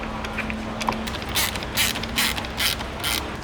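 A ratchet tightens bolts on an aftermarket rear diffuser of a Kia Cerato GT sedan, with a faint tick early on, then about five loud, even clicking strokes close by.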